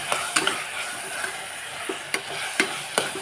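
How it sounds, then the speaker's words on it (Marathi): Spices including fried rice masala and chili powder sauté in a pan over medium flame with a soft steady sizzle, punctuated by several sharp scraping clicks of a spatula stirring against the pan. "मसाल्यांना पण आपण दोन मिनटं छान परतून घेऊ"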